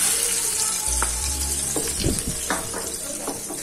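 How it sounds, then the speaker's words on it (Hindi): Chutney fries in a pan over low gas for a semolina breakfast, a close, continuous sizzle with a few stirring scrapes and spoon taps. "तो चटनी को अच्छे से पकाएंगे अभी।"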